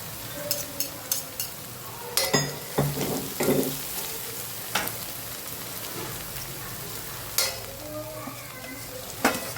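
Onions frying in a pan for a Gujarati brinjal bharthu, a soft continuous sizzle with scattered spoon clinks and stirring knocks, fairly quiet and close.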